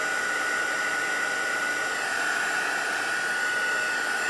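A hair dryer blowing on painted paper to dry it, a constant close whirring whoosh with a steady high whine, loud and unbroken, no talk.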